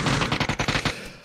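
Video game gunfire: a quick burst of about eight rapid shots, close and loud, that stops suddenly and leaves a short fading tail, with no voices.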